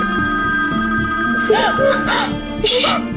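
A telephone rings in short repeated bursts while people talk over it nearby.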